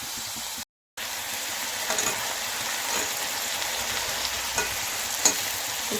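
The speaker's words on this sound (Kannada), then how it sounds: "ಫ್ರೈ ಆಗಲಿ, ಆಮೇಲೆ ಟೊಮೆಟೊ ಹಾಕಬೇಕು." Egg bhurji masala sizzles steadily in a pan, a continuous frying hiss with a few light stirring clicks, broken once by a brief total dropout near the start; no one speaks.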